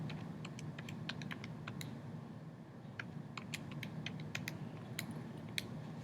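Keys clatter on a computer keyboard as a math problem is typed in, an irregular run of soft, quick clicks over a faint steady background hum.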